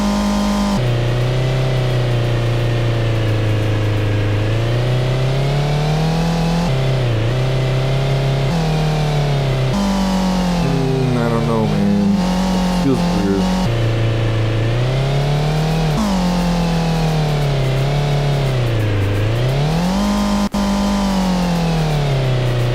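A car engine in a self-made Godot racing game revs steadily, its pitch rising and falling in long sweeps with brief dips and stutters, loud and continuous, and a voice speaks briefly.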